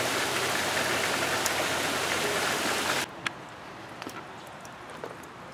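Hard rain pours steadily onto a flooded garden during a storm, a dense, loud, close roar of water. It drops abruptly to a softer patter and drip partway through, with no speech.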